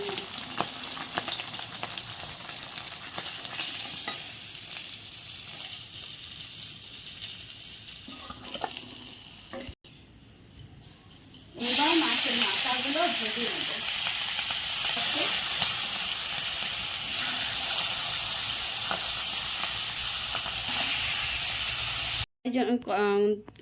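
Cumin, bay leaf and dry red chilli sizzling in hot oil in a kadai, a steady frying hiss that swells louder midway, with a voice talking over it early on.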